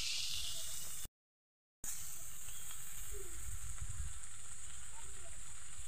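Crushed green chilies hit hot oil with ginger and cumin and sizzle in a steady frying hiss. The sizzle holds at moderate loudness throughout, apart from a brief dropout.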